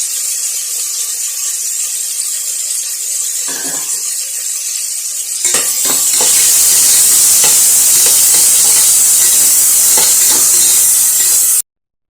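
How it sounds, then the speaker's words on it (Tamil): Cumin, chillies, cashews, coloured capsicum, mint, coriander and curry leaves sauté in a pan for jeera rice, first a quieter hiss, then a loud, bright sizzle with rough stirring scrapes, without speech, ending abruptly. "நல்லா வதக்குங்க."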